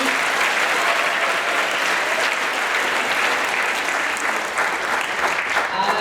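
A room full of listeners breaks into steady, dense applause at an academic talk on maritime archaeology, a continuous wash of clapping held at even loudness across the whole stretch with no voices rising above it.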